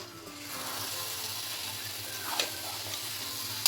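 Gobindobhog rice, chicken, potato and gravy being mixed together in a pan, giving a soft continuous sizzle with faint scraping stirs and one brief louder clink near the end, no talking.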